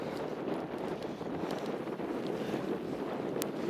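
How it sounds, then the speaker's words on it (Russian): Steady wind gusting across open water during a carp-fishing outing, a continuous broadband rush with faint lapping underneath, no voices. "Ветер."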